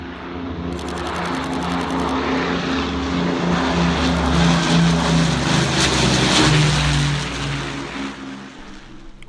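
Propeller aircraft of the Battle of Britain Memorial Flight departing Southend at an air show, a loud, steady multi-engine drone with a low throb that swells and slowly fades as the planes leave.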